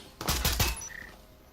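A quick burst of three or four close, sharp gunshots rings out in the VR tactical shooter Breachers during an esports playoff match, followed by faint electronic game tones.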